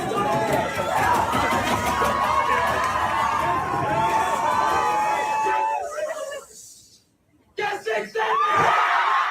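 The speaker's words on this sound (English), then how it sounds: "You see all these kids clamoring against the counter." A crowd of high school teenagers clamors at an In-N-Out fast-food counter: dense overlapping shouts and chatter that briefly thin out and drop nearly silent, then surge back loud.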